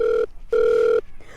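A telephone ringback tone during a redialed call: two clear, loud electronic rings separated by a short pause, with no talking.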